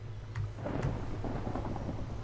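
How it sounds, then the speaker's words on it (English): Thunder rumbles in a Minecraft world, a low rolling boom building and lingering over steady rain, moderately loud and unaccompanied by talk. "Ooh, it's thundering too."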